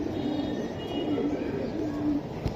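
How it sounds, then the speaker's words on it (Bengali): Soft cooing of red khaki pigeons, a few low repeated coos close by over a murmur of background noise, with a small knock near the end. "লাল খাকি কবুতর ভাই, লাল খাকি"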